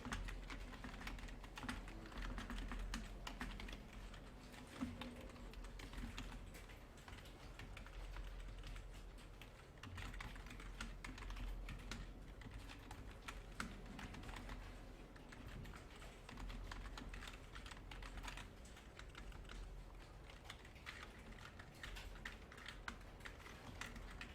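Quiet, steady typing on a computer keyboard, with keys tapped in an irregular stream and occasional louder strikes, heard close and alone for the whole stretch.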